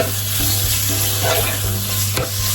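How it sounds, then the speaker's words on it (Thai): Pork with red curry paste is stir-fried in a pan for a snow pea and curry paste dish: a loud, steady sizzle with constant scraping and stirring, close up with no voices. "ผัดหมูให้สุกนะคะ"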